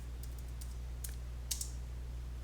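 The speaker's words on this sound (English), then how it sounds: "let's type it git commit" Keystrokes on a computer keyboard typing a git command, a handful of light, sparse clicks over a steady low hum, quiet and close.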